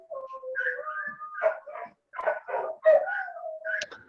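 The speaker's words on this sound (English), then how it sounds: "They love howling in unison." Several pet dogs howl together in a home, long wavering tones mixed with yips and whimpers that rise and break over about four seconds, fairly loud and close, with no talk.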